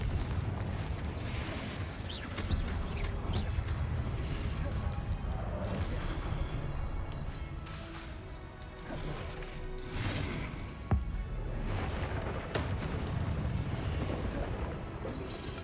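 Confringo blasting-spell explosions in the Hogwarts Legacy video game, dense continuous combat noise with booming crashes and swooshes throughout, one sharper burst near the end, with voices over it.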